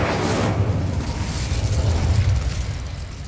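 An Incendio fire spell blasts in Hogwarts Legacy, a loud, rumbling whoosh of flame with a deep low roar sustained for a few seconds, heard alone.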